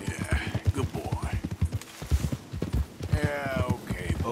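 Horse hooves clip-clop at a steady walking rhythm on a road in the video game Red Dead Redemption 2, loud and close. Someone speaks over the hoofbeats.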